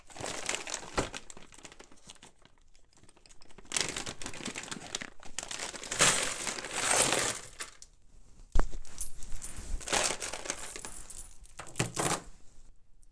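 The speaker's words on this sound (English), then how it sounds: "I will open up the bag and dump it all out in this little plastic box here" A bag of mixed thrift-store jewelry, pearls among it, is opened and poured into a small plastic box, giving bursts of crinkling plastic and clattering, jingling pieces that come in several waves with a sharp drop near the end.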